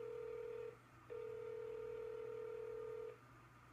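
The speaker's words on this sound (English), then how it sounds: "What phone just rings into infinity like this?" A telephone call rings unanswered, a steady electronic ring tone pulsing in long tones separated by short gaps, clear and alone with no voices.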